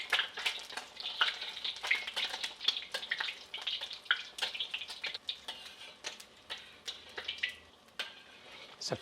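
A speckled heritage egg frying crispy Asian style in a pan, close bubbling sizzle with sharp pops and crackles scattered throughout, fairly loud and uneven, no talk.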